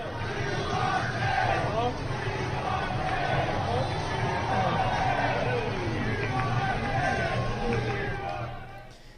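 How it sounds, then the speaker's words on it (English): Large crowd at a Detroit Tigers baseball game roaring and chanting together, a dense sustained wall of many voices that stays loud throughout and tapers slightly at the very end. "But you hear the crowd chanting,"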